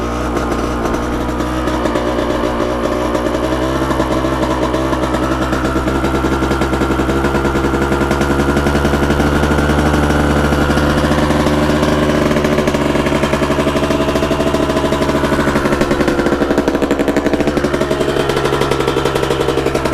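A dirt bike engine running continuously and loudly up close, a rough steady buzzing drone with a rapid pulsing firing rhythm and slight shifts in pitch, with no voices.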